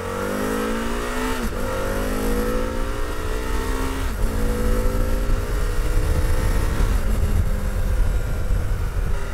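An Aprilia Caponord ETV 1000 motorcycle accelerates hard on asphalt, its engine note climbing in pitch through repeated gear changes, loud and close with steady wind rush.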